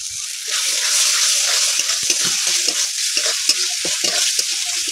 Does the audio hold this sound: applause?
no